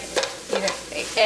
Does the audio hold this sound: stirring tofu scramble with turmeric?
yes